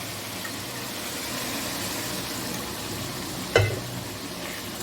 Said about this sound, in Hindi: गोश्त के अंदर हमने यखनी डाल के इसको अच्छी तरह भुना है